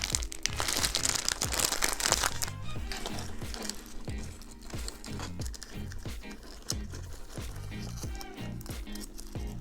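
A crinkly plastic gingerbread house kit package is torn open and handled, with loud rustling and crinkling at first, then a run of repeated crackles and taps close up.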